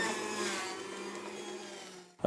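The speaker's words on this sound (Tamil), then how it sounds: "நம்ம ஜூஸரில் போடும்போது அப்படியே அரைச்சி பண்ணிக்கலாம்." A juicer motor whirs steadily with a tonal hum for about two seconds while grinding white ash gourd, then stops, followed by a brief clatter.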